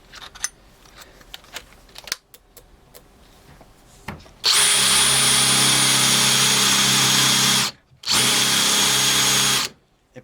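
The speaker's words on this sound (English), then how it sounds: "When I put it in my drill" Power drill boring into wood with a large 14 mm brad point bit, a loud continuous whine running for several seconds, briefly stopping, then resuming after quiet handling noises at the start.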